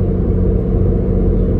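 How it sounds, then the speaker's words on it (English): Steady low road rumble from inside a moving 9th-generation Honda Civic Si on coilovers, a constant engine drone with no voices. "I'm driving right now, as you guys can hear"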